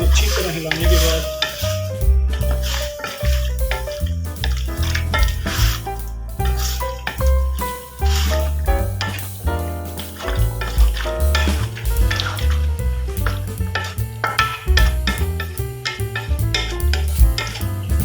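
Chicken white karahi with tomatoes and water being stirred in a metal pan, a continuous clatter of a spoon scraping the pan over a wet sizzle, loud and close with no talk.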